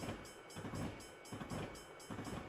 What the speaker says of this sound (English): Must be another train coming through.